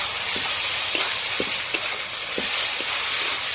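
Onion frying with garlic paste, ginger paste and chopped tomato, a steady hiss with occasional spoon scrapes and stirring knocks close by, no voices.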